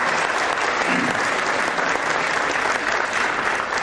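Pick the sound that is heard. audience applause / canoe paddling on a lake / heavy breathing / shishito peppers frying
audience applause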